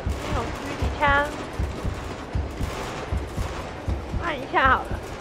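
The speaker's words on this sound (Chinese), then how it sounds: "这种狙击枪" Sniper rifle gunfire in the Uncharted 2 video game, with sharp, moderately loud shots spread through game sound effects and in-game voices.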